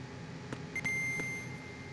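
The codec in Metal Gear Solid 2 sounds a short series of electronic beeps: a few quick clicks and then a sustained thin tone lasting about half a second. It plays faintly over a low ambient hum.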